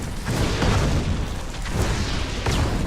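Short-range flame weapon firing in a fantasy mage video game, a continuous rough roaring burst with heavy low rumble and repeated booming surges across the whole span, no talking.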